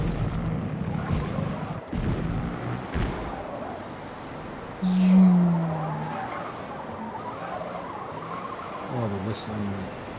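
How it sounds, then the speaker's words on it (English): Tires screech briefly in Forza Motorsport amid engine roar and whooshing wind, with a voice speaking intermittently over it. "the whistling and the screeching the tires is bad"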